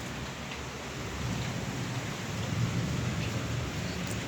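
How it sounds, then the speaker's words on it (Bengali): Heavy rain pours in a dense, unbroken hiss during a dark, windy thunderstorm, with low thunder rumbling and swelling beneath it; no voices. "প্রচুর বৃষ্টি সকাল থেকে, বজ্রপাত সহ"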